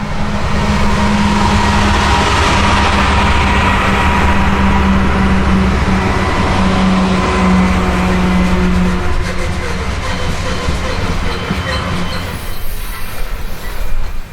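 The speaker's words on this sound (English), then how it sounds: "You can hear the brakes squeal" A heavy Union Pacific freight train with loaded hopper cars slows to a stop on the transcontinental line, its brakes squealing in long steady tones over a loud continuous rumble of rolling wheels that eases toward the end.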